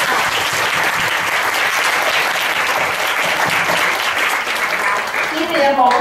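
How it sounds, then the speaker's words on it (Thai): An audience applauds master's degree students at a Thai talk show and awards announcement, a dense steady clapping across the whole stretch that eases slightly near the end. "ปรบมือให้กับพี่ปริญญาโทด้วยค่ะ"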